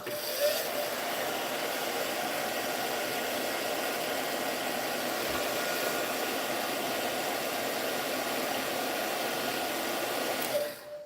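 A hair dryer runs steadily for about ten seconds, drying paint on a decorative plaque with an agapanthus flower. It gives a constant, close, unbroken whir with no talk over it.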